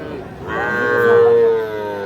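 A young bull calf gives one long, loud moo close by, with faint background noise.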